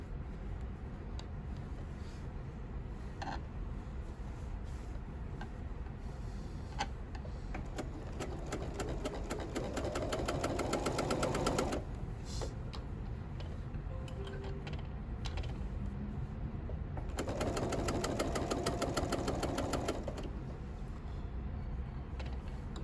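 A sewing machine stitches a seam on a bulky fabric carry-all caddy, running in two steady bursts of rapid mechanical ticking over a low background hum, with quieter gaps between.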